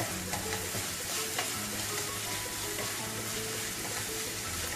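Spices frying with potato and eggplant (aloo baigan) in a pan, seasoned with aamchur and red chili powder, make a dense, continuous close sizzle, with faint scraping and tonal hum underneath.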